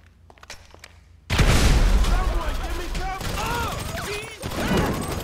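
A frag grenade blast and gunfire in Grand Theft Auto 5 erupt suddenly after a quiet start, a loud booming burst followed by sustained crackling shots with voices shouting over the fight.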